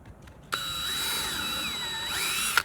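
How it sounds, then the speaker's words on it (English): A power drill pre-drills a hole in wood for a butt-joint screw: a sharp start, then a steady high whine for about two seconds, ending abruptly, close and otherwise quiet. "So we're going to pre-drill that and send it in a little ways."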